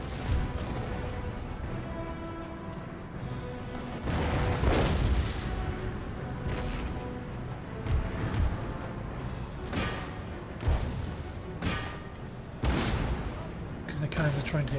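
Cannon and artillery fire in an Empire Total War battle, with repeated heavy booms and crashing volleys spread throughout, loud and near, under a steady layer of game noise and a voice talking over it.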